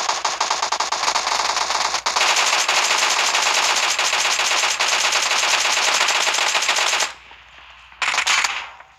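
Machine gun in a video game team match fires in long, rapid sustained bursts, loud and close, pausing briefly then resuming with a short final burst.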